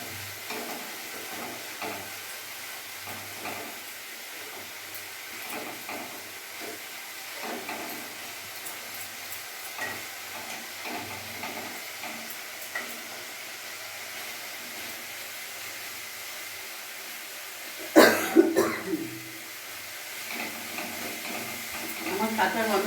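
Dhaba-style chicken curry masala is sautéed in a pan with a splash of water over a medium flame, giving a low steady sizzle and stirring, then a brief louder burst of scraping and hissing near the end, with faint voice in the background.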